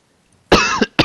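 A man coughs close to the microphone: a sudden harsh double cough after a short silence, then a third burst.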